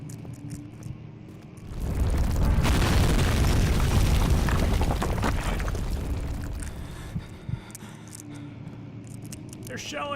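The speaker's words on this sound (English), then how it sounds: "They're shelling us! Take cover!" Artillery shelling in a video game, a heavy explosion swelling into a long roaring rumble that slowly fades, followed by scattered clinks and debris while voices speak.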